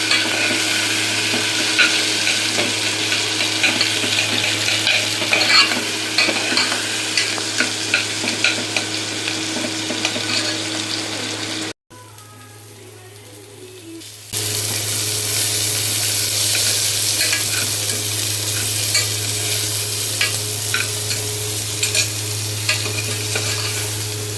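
Onions frying in a pan for masala kuruma, loud continuous sizzle with scraping stir strokes throughout, briefly dropping to a quieter hiss midway before the full frying resumes, close up.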